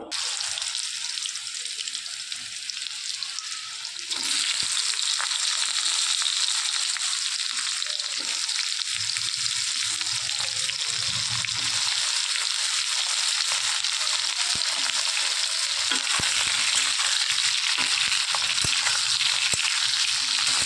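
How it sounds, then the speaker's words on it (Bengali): Continuous loud sizzling of pointed gourd frying in hot oil, steady throughout, with occasional stirring clicks; it gets louder after a few seconds. "এবার পটলটা ভেজে নেব।"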